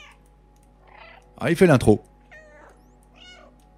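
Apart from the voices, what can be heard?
cat meowing in the video game Stray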